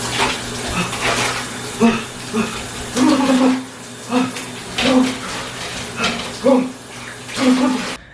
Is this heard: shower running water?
yes